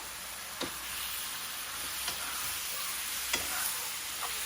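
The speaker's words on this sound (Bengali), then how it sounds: "So adding the chicken now." Chicken pieces fry in a pan with ginger-garlic paste, giving a steady close sizzle with a few sharp spatters and stirring clicks, no voices.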